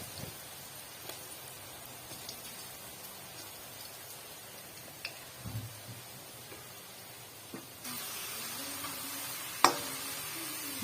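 Potato chips fry in oil with a quiet steady crackle and sizzle and a few faint taps and scrapes. The frying swells noticeably louder near the end, with a sharp clack just after.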